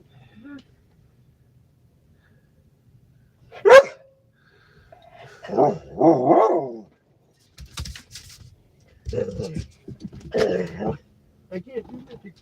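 A puppy gives a few scattered, separate barks at moderate distance, mixed with people talking nearby.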